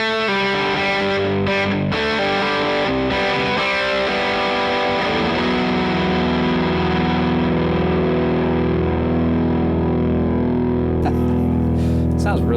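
Electric guitar through the PLUS overdrive/boost pedal into an amp, crunchy sustained chords and ringing notes with a thick, driven tone, loud and continuous, ending on a long held chord with a brief scrape near the end.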